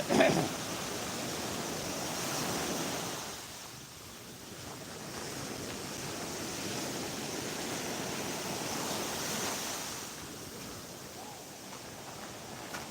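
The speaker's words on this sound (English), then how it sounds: "it's nice to hear the sound of the waves, isn't it?" Waves of the Black Sea wash onto the shore at night, a soft, steady surf with gentle swells rising and falling, mixed with light wind buffeting the microphone; no one speaks.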